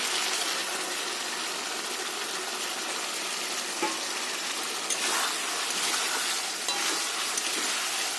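Chilli chicken simmering in a pan as cornflour slurry is added, a steady close hiss and sizzle with occasional faint clinks and stirring taps, no voices.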